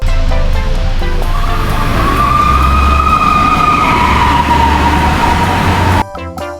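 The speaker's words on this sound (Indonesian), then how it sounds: "Ini mobil fire truck, mobil pemadam kebakaran." A toy fire truck's siren sounds loud and close: a steady electronic wail over a harsh, hissy background that cuts off abruptly near the end.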